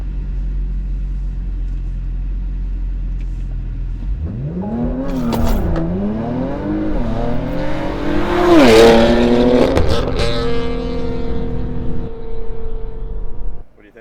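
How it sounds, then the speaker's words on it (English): A Porsche Macan fitted with downpipes and a tune launches hard, the engine rising from idle into a loud, climbing rev with gear changes and a strong roar before cutting off, as if heard from inside the car. "You really get the feel for the horsepower increase on the launch."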